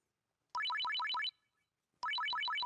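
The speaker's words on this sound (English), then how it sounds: "The sound of a ringing phone cut her off." A phone in the Steins;Gate 0 visual novel rings with a bright electronic trill of rapid repeating tones, two distinct bursts separated by a short pause, clean and loud with nothing else audible.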